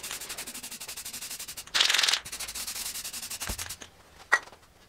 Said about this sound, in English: I'm just kind of dusting the primer onto it